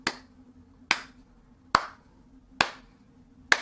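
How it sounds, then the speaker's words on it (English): Five sharp, separate hand claps, slow and evenly spaced about a second apart, close and crisp in an otherwise quiet room. "I'm not even gonna clap very fast for you"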